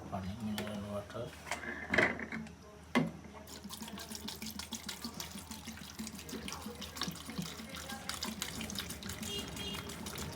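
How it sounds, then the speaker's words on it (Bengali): Mineral drinking water is poured into a blender holding juice ingredients with black pepper, giving a steady splashing trickle after a couple of sharp knocks, with room noise around it. "এরপরে আমি দেব পানি, খাওয়ার পানি,"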